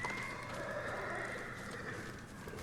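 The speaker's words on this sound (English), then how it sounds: "I don't, it's just his horse." A horse in the Ghost of Tsushima video game whinnies in a sustained neigh, with faint hoof clip-clops beneath, moderately quiet and without talking.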